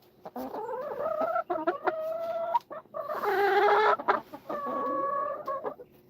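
Chickens cluck and squawk in a coop, a busy run of overlapping calls from several hens with a louder burst midway, close and clear with no talking.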